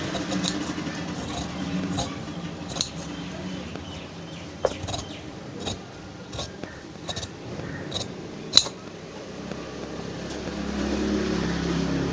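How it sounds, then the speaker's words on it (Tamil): Scissors snip through fabric while cutting the back piece of a size 35 princess cut blouse, giving a run of crisp, irregular close-up snips over a low steady room hum with no talk. "இப்போ நம்ம பேக் பீஸை கட் பண்ணி எடுக்க போகிறோம்"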